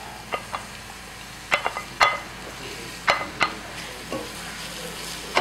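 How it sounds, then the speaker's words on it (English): Onions frying in a hot pan, a soft continuous sizzle broken by sharp scraping and clinking stirring strokes at uneven intervals, close and fairly quiet with no talk. "just let it heat up, and add the onions"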